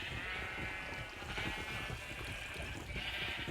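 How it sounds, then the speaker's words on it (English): Many sheep on a Minecraft sheep farm bleat in a dense, continuous chorus, loud and steady the whole time, with no talking. "so we have our mass sheep farm"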